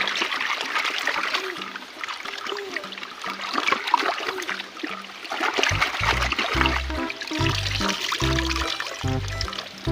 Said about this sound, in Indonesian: Kakak berhasil menemukan sungai kecil ya